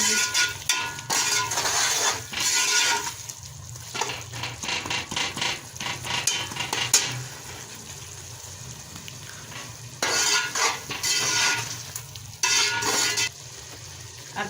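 Ingredients for a mixed vegetable sabzi fry in a pan with loud, close sizzling and scraping stirs that come in bursts separated by quieter stretches of gentle frying.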